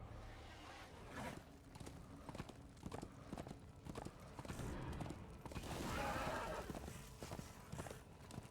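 Horse hooves clip-clopping in a steady rhythm while riding in the video game Darksiders 2, fairly close and continuous, with a louder swell near the end.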